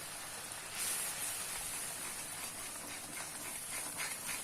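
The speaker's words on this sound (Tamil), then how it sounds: "ஸோ நல்லா கொதிச்சிட்ருக்கு பாருங்கள்." Faint, steady hissing and soft bubbling of sweet corn masala gravy simmering in a pan, with no voices.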